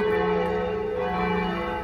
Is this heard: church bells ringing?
yes